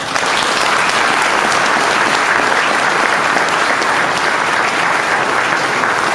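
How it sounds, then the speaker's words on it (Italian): Sustained applause from an audience at an outdoor solidarity event with singing, a dense, steady wash of many hands clapping at close range for several seconds without pause. "Applauso e grazie."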